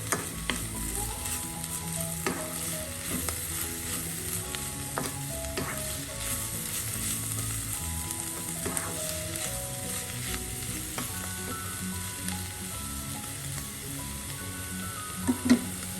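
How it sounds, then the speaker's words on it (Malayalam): Bitter gourd and carrot thoran stirred in a pan: steady scraping and soft clinks over a continuous sizzle, close and moderately loud, with a brighter knock near the end. "ഇതെല്ലാം കൂടെ ഒന്ന് നന്നായി മിക്സ് ചെയ്യാം"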